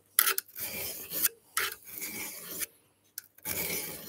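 A garden tool is sharpened by hand with 320 grit abrasive. The close, dry rasping comes in repeated strokes with short pauses between them.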